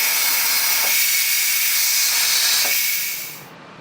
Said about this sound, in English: we're going to flip the valve to vent and do a quick release